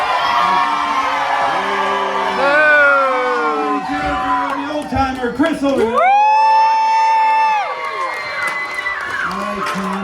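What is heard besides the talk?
crowd cheering for lumberjacks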